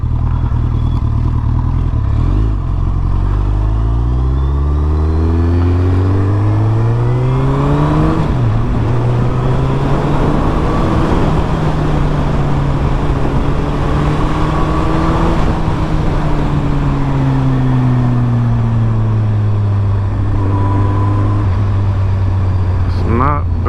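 A 2008 Suzuki Hayabusa motorcycle rides along as its engine note climbs and falls through several gear changes and downshifts, loud and close, with rising and dropping harmonic tones and steady wind noise.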